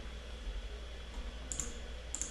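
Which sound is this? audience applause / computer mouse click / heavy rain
computer mouse click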